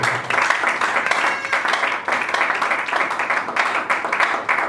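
A church congregation applauds in steady, rhythmic clapping that carries on throughout, with an even, full crowd sound and no pause.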